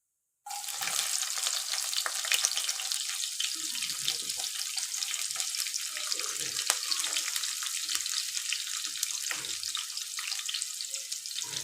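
Onions sizzle steadily in a hot pan with cumin seeds for a tomato dish, a continuous dense hiss that starts abruptly and holds with no talk.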